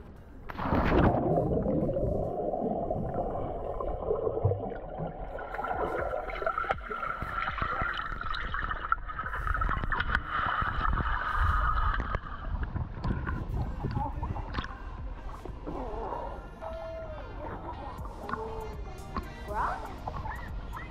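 Muffled underwater rumble and gurgling from a GoPro 9 camera submerged in water, a steady dense wash with bubbly bursts and low thumps throughout, no speech.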